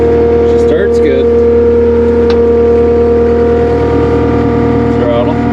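A hard-worn Takeuchi TL240 skid steer engine runs at a steady idle, a constant close drone with brief revving flourishes and someone talking over it.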